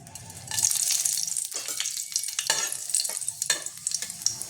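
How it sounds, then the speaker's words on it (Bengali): Two dried red chillies crackle and sizzle in hot mustard oil, a steady bright frying hiss with sharp pops and stirring clatters, close and loud, no voices. "এর মধ্যে আমি এবার শুকনো লঙ্কা 2টো ফাটিয়ে দেবো।"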